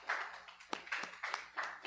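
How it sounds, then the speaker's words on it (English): A small comedy club crowd claps faintly, with a few sharp separate hand claps standing out against a quiet, sparse patter of applause. "let's have a round of applause for black people"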